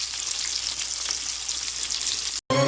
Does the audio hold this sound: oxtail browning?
yes